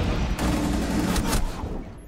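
Shotgun fire in Rainbow Six Siege, a loud dense blast with a second sharp report moments later, close and dominating the short moment with no talk.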